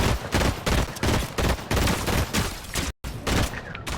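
An enemy turret in Fortnite firing steadily: a loud, close run of rapid repeated shots in a regular rhythm, with one brief drop-out near the end before the firing resumes.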